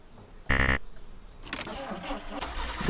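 A car engine cranks and catches in the video game Jalopy, a short loud starter burst followed by the engine settling into a rough running rumble.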